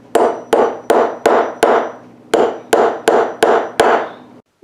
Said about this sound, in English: You can pound a nail into wood with a hammer.